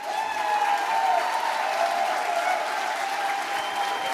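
A crowd at a Fight for America rally in Neenah applauds veterans standing to be recognized. The clapping is sustained, dense and fairly close, holding steady throughout.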